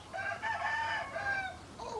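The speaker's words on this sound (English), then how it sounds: "Yes, we can hear all your crowing. Stop it. Stop it, chicken." A rooster crowing in Mexico, one long loud close cock-a-doodle-doo over about two seconds with a short clucking note at the end, alone with no talk.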